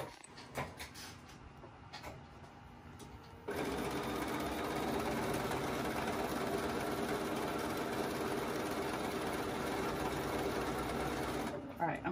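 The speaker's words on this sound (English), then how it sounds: "let's sew these two rows together" A home sewing machine stitches two rows of triangle quilt blocks together, running as a steady, continuous motor whir for several seconds after a few softer handling noises, then stopping near the end.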